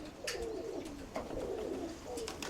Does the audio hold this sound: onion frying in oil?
no